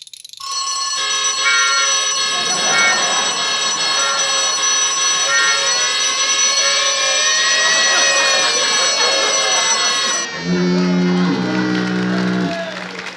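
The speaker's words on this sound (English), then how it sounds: "Well, the alarm still works." A loud electric alarm bell rings continuously, shrill and unbroken for about ten seconds, then stops, followed by a brief lower buzzing tone in a classic radio comedy recreation.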